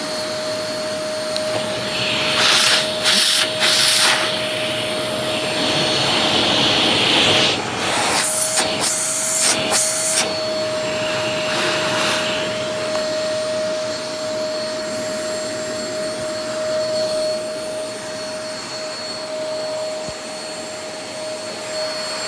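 A Hoover WindTunnel v2 upright vacuum cleaner runs on carpet with a steady loud whine and roar, its airflow surging and shifting in bursts as it is pushed back and forth, close and continuous throughout.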